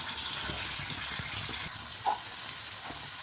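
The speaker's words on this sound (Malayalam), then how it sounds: "ഇനി ആ ചിക്കൻ പൊരിച്ച എണ്ണയിലേക്ക് നമുക്ക് സവാള ഇട്ട് കൊടുക്കാം." Sliced onions dropped into hot oil already used for frying chicken, for a homely Kerala-style chicken biryani, give a steady, close hiss and sizzle that runs throughout, with a few faint clinks near the end.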